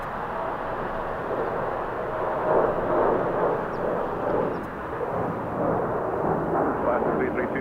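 A heavy jet airliner taking off from runway 25 right at Los Angeles International Airport, a broad continuous engine roar swelling and holding steady for several seconds at moderate distance, with radio chatter faintly beneath.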